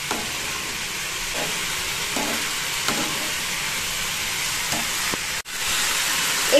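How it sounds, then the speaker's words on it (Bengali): Fourteen mixed leafy greens fry with sugar in a pan, giving a loud, continuous broadband sizzle and hiss with occasional stirring scrapes and a brief dip near the end. "ভাজা ভাজা করবো, চিনিটাও গলবে।"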